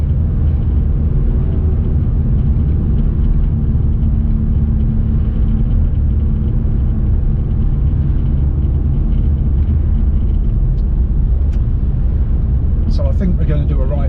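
Car cabin drive-along, a steady low engine and road rumble filling the interior, constant and fairly loud with faint rattles near the end.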